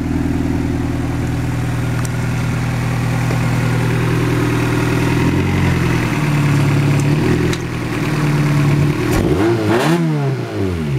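A 1999 Acura Integra engine runs at a steady, close idle, then rises in a few revs near the end.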